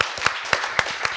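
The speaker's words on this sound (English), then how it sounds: "Round of applause for all of you." Audience applause at a conference panel discussion, scattered hand claps at an irregular rhythm, brief and moderately loud, with no voices.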